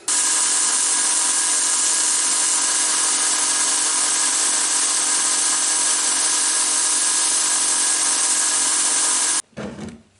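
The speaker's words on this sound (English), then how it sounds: "Belt sander test." A belt sander runs steadily and loudly for about nine seconds as a sustained abrasive whine, then cuts off abruptly, leaving a brief quieter tail at the end.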